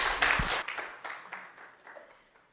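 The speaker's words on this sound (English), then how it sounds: "A round of applause for them." Conference audience applauding after a panel discussion, a short burst of scattered claps that starts fairly strong and quickly thins into a few fading claps within about two seconds.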